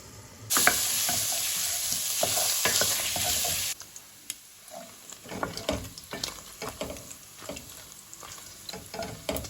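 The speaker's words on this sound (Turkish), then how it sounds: "Tenceremizi kızdırdık ve doğradığımız yağları tenceremize alıyoruz." Loud steady sizzling of chopped fat frying in a hot pot for lamb kavurma for a few seconds, then quieter crackling and popping with occasional clinks.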